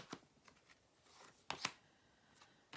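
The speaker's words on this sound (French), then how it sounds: "Donc on va remettre une carte dessus." Tarot cards laid down onto a card spread, a few soft papery slaps and flicks with two sharper snaps near the middle, close and quiet, with no talking.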